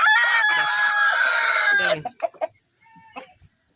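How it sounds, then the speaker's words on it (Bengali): A rooftop-garden rooster crows once loudly and close for about two seconds, then a few short clucks and faint bird sounds follow. "এই পাতাটা পড়েছে বলে মোরগ প্রচুর ডাকছে"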